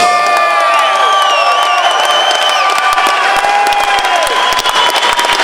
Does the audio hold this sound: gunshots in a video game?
no